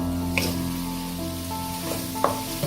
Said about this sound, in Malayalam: ഇപ്പം ഇത് നന്നായി വഴറ്റണം.